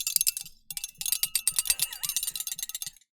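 Spoons rattle in a quick, bright, clattering rhythm close by, the metallic clicks running almost continuously with a short pause near the start.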